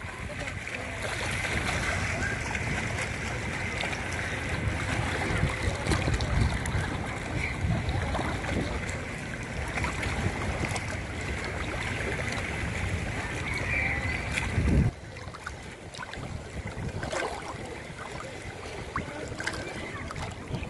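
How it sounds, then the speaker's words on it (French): Sea waves wash and surge continuously at close range with gusts of wind, a broad rushing wash that eases slightly toward the end. "Tu entends le bruit de vagues qui te berce là?"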